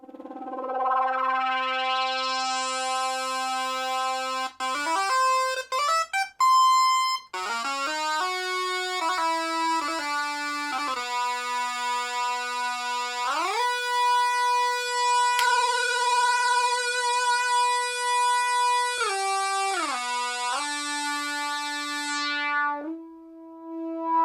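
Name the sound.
Yamaha CS-01 synthesizer played through its built-in speaker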